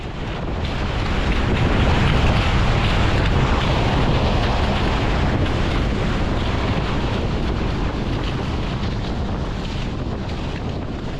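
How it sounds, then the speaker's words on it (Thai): A small, newly built fishing boat with its engine running steadily on a bay near Phuket, the drone largely buried under loud, constant wind buffeting the microphone and rushing water. "ก็มาลองเครื่องเรือกันหน่อยนะครับ"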